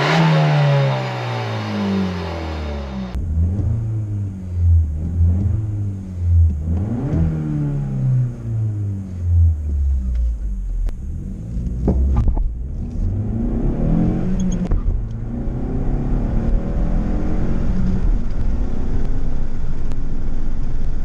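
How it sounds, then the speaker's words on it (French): A Suzuki Swift Sport 1.4 Boosterjet hybrid with six-speed gearbox and stage 1 tune accelerating on a road, its engine rising through repeated gear changes, then settling into steady road and wind noise from inside the car. "nous voilà sur la partie dynamique avec Gabi au volant de la Swift"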